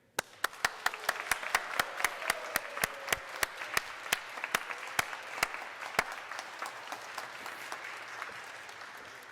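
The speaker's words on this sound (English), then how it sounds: "join me in applauding, in applauding your family and friends from far away and here today" Audience at an Executive MBA graduation recognition ceremony in Shanghai breaks into sustained applause, a dense wash of clapping with a few sharp, louder claps standing out before it gradually tapers off.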